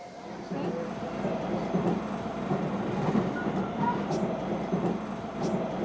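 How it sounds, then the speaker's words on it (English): Riding inside a moving train brings a steady low rumble of wheels and carriage with faint rattles and a couple of brief high squeaks, continuous throughout. "We're on the train"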